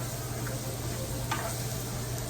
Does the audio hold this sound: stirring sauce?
yes